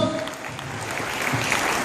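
Audience applause after an MJ-style dance act at a live stage show, a steady wash of clapping that holds at an even level for about two seconds with no voices over it.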